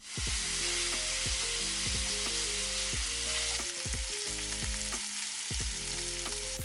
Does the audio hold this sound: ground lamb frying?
yes